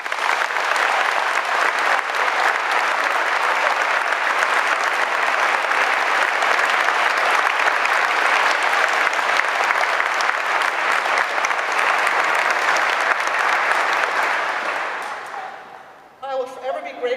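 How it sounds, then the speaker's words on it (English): Sustained applause from a large audience, dense and even clapping at close range that holds steady for about fifteen seconds before tapering off abruptly at the end. "Please join me in giving them a huge round of applause."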